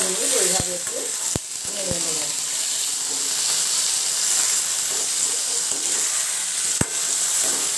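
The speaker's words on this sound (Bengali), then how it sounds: "একটু নাড়াচাড়া করে ভাজা মতন করে নেব" Loud, steady sizzling of chicken frying in a pan, with occasional sharp clinks and scrapes of a utensil stirring, close up throughout.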